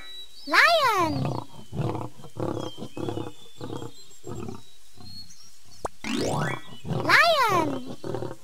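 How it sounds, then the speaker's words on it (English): Lion roaring in a wild animal sound compilation, two loud close roars each opening with a rising bellow and trailing into a rhythmic series of deep grunting huffs. "Lion."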